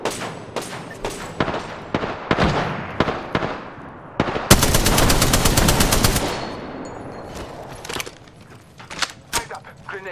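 Gunfire in the shooter game Apex Legends: scattered single shots and short bursts, then a loud sustained automatic volley lasting about two seconds, followed by a few more sporadic shots tapering off, close and forceful.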